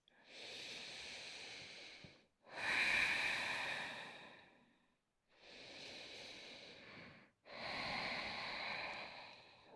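Slow, oceanic ujjayi breaths taken while holding a downward dog yoga pose, four long hissing inhales and exhales in even succession, close to the ear and alone without voices.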